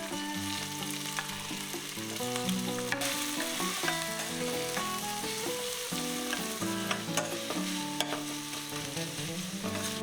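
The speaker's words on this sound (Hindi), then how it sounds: "तो मस्टर्ड ऑयल में तड़का मैं ये लगा रही हूँ।" Onion, ginger, garlic and chili sizzle in hot mustard oil for a tempering, a steady crackling fry with stirring clinks, and no talk.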